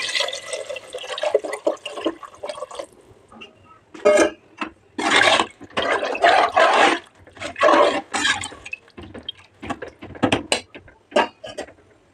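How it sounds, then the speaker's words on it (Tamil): Water poured into a cooking pot of mushroom biryani with spices, coming in several loud, splashy bursts separated by short pauses. "நெக்ஸ்ட்டு தேவையான அளவு தண்ணி ஊற்றலாம்."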